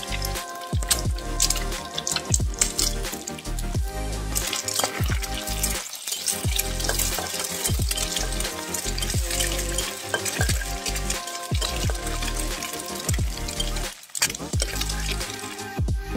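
Water drains off boiled chowmein noodles in a kitchen, giving a steady patter of drips and trickles with occasional sharper splashes.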